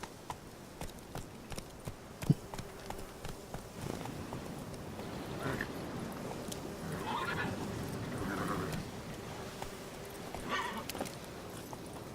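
Roach, a horse in the video game The Witcher, clops its hooves in a sparse rhythm and then gives a few drawn-out whinnies, all quiet and fairly close.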